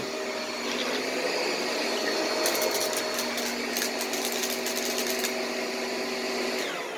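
A Bissell Pet Hair Eraser Slim single-cyclonic stick vacuum runs with a steady, high-pitched motor whine, joined midway by a brief rattling of debris being sucked up, with no talking.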